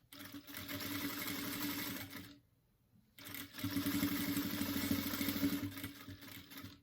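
Sewing machine stitching a dish towel, a rapid close mechanical whirr in two runs separated by a brief pause, with no talking.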